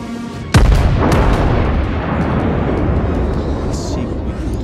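Battleship Konig Albert's main guns firing in World of Warships, one sudden loud boom followed by a long rumbling roll and scattered distant thuds, with a voice talking over it.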